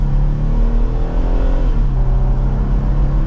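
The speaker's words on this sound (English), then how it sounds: "as we get up and go with the V6 and that 8-speed, it's not exactly a fast vehicle" A 2024 Jeep Wrangler Rubicon with a V6, 8-speed automatic and 35-inch tires accelerates, its engine droning loud and steady as the pitch climbs, dips briefly at a gear change, then climbs again.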